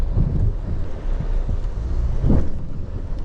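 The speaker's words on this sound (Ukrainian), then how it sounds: "Оце тобі такий дощ" Heavy rain pours outdoors during a June storm in the forests of Polissia, a loud continuous roar with deep rumbling bursts and wind buffeting the microphone, no voices.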